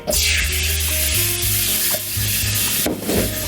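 Steady sizzling and crackling of salmon frying in hot oil in a pan, loud and close, with a low hum and a few clinks in the background.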